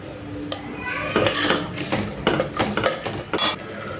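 Vegetables and ginger garlic paste are stirred in a metal pot for prawn biryani, producing repeated clanking and scraping of a ladle against the pot over a busy kitchen background.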